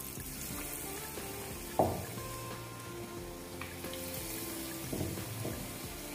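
Bread pakoda, dipped in gram flour batter, frying in hot oil in a kadhai: a steady, moderate sizzle with a sharp burst of bubbling as the piece drops in near two seconds, then continuous crackle and a second swell later.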